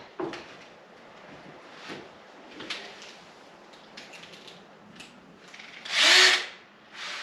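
A power drill fitted with a bent drill bit whirs in short bursts nearby, ending in one louder, sustained run, with light handling clatter between.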